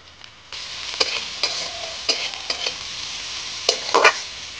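Chopped onion, green chili and carrot fry in a pan. A soft sizzle runs under repeated close scraping stirs, which turn into a quick burst of louder clatter near the end.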